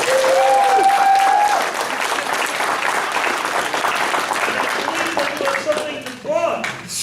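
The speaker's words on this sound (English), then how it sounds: "Give them a huge round of applause." An audience applauds the panelists at the close of a show at the Anthrocon 2017 furry convention, loud dense clapping that fills the room throughout, with voices calling out over it.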